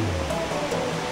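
Steady rushing waterfall from the Nintendo Switch game Super Mario 3D World, a continuous broadband wash of falling water at even loudness with a faint tonal game-music layer underneath.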